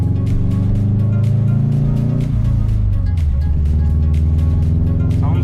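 A Subaru engine runs steadily near the microphone while warming up after an ignition coil replacement, a continuous low hum with harmonic drone that dips in pitch briefly midway, with faint background voices and clicks.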